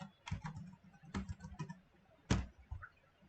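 Computer keyboard keys tapped in short irregular bursts while entering a folder name, close and crisp with pauses between clusters, one louder keystroke near the end.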